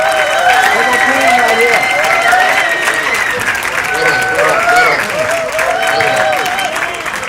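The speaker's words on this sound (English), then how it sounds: "Big round of applause for the Black Panther Party." An audience at a 2015 gathering honoring the Black Panther Party breaks into loud, sustained applause, dense and continuous, with crowd voices and cheers rising over it.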